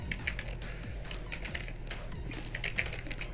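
CSS code being typed on a computer keyboard: a steady, fairly quiet stream of rapid key clicks with brief pauses, over a low hum.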